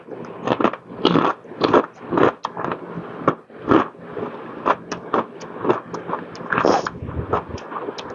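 Crisp papad being bitten and crunched during a Bengali meal with hilsa, a run of sharp, close crackling bites and chews in an irregular rhythm, with no talking.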